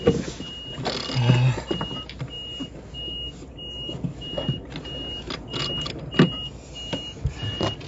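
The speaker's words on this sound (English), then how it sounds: "that beeping noise is the engine pressure warning" A thin, high electronic beep from a sailboat's engine pressure warning repeats at a steady pace over a low rumbling engine and background noise, fairly faint and close by.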